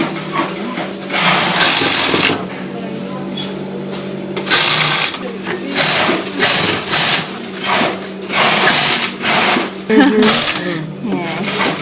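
Wig-curl making machines running in a Guangzhou wig factory, a loud steady mechanical whir with rhythmic clattering bursts throughout, while people talk over it.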